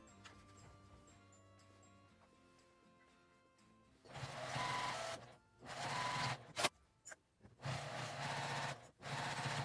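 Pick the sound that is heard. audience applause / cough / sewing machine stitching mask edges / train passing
sewing machine stitching mask edges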